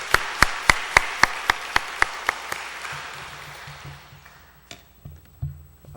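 At a Wednesday church service, slow rhythmic group claps ring out about a dozen times in even succession, then fade out. Quieter scattered sounds and a low hum follow.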